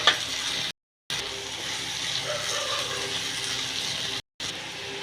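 Pigeon meat frying in a pot with soy sauce, onions and a sprinkle of water, giving a steady, loud broadband sizzle that runs throughout with two short silent gaps.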